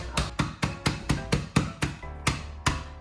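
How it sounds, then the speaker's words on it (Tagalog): Sharp pounding blows crushing Oreo cookies, about a dozen at an even pace, each a crisp thud with a crunchy edge, close and unaccompanied by speech. "O kahit na anong pamukpok, kahit martilyo, pwede. Durugin mo siya, pero dahan-dahan lang."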